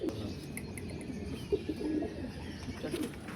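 Pigeons coo on a rooftop in the early morning: soft, rounded coos repeat at irregular intervals over a low background murmur, with a few faint chirps from other birds. No voices.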